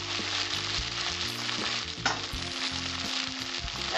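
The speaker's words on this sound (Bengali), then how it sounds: "এটা আমি 1 মিনিট ভেজে নেব। রসুনের কাঁচা গন্ধটা বেরিয়ে যাবে।" Garlic fries in oil in a pan for a pomfret fish curry, producing a steady, dense sizzle that stays close and loud throughout, with a few faint stirring knocks and no voices.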